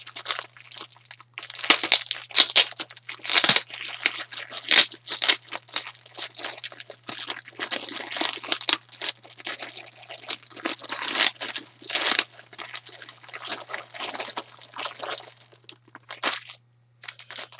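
Football cards and stickers being unpacked from a mailed package, with steady close crinkling, tearing and crunching of wrapping that keeps going in busy bursts with short pauses and no talk.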